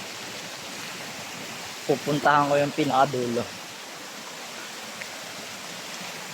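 Steady broadband rush of a river that supplies a village's water, continuous and fairly near, with someone briefly speaking over it partway through.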